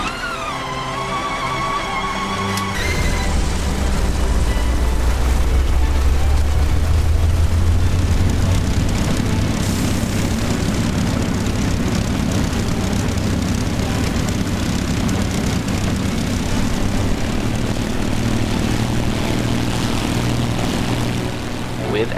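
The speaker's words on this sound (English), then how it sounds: "let's return to our aircraft and energize the engine" A Spitfire aircraft engine in the Accu-Sim flight simulator game whines and coughs into life, then settles into a loud, steady propeller drone that runs continuously close by.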